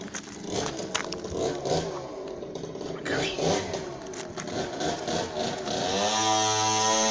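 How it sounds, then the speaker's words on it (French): A motocross motorcycle engine runs close by, a steady buzzing drone with a rough tone that holds through the whole stretch and grows more even near the end, while people talk over it. "Il va éteindre sa moto."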